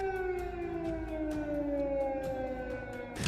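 An air raid siren wails in Ukraine, one steady sustained tone with a slow downward drift in pitch, continuous and fairly distant, with no voices over it.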